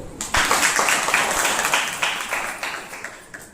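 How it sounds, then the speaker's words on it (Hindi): An audience applauding after a magic trick, a dense burst of clapping that starts abruptly and gradually thins out, fairly close. "अपन ताली बजाओ"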